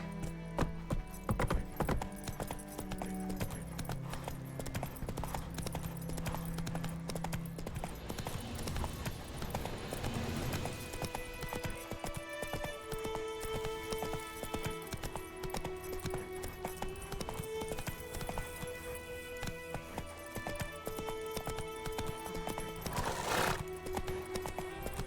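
Horse hooves clip-clop steadily on the ground in The Witcher 3 video game, with a horse neighing and whinnying over game music and ambient sound, moderately quiet throughout the clip.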